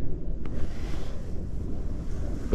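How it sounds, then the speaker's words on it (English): Strong wind on the Orkney islands buffets the microphone in heavy, roaring gusts, with a steady rushing noise throughout. "I'm hoping I don't get blown off the islands because it's insanely windy today."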